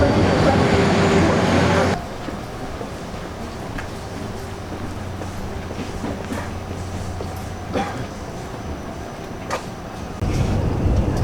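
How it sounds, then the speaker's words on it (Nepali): Loud rushing rumble of a train arriving in Korea, then a quieter steady hum of riding inside a smooth carriage with faint clunks, before the roar swells again. "ट्रेन चाहिँ अब आयो, अब चाहिँ हामी ट्रेनमा चढेर चाहिँ जान्छौँ।"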